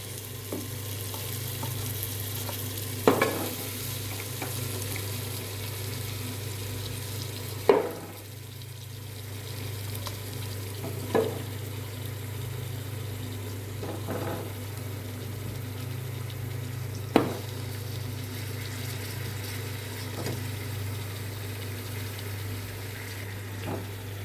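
Beef trotters are stirred in a pot of frying spices and green chilli, giving a steady low sizzle throughout with several sharp clinks and scrapes at irregular intervals.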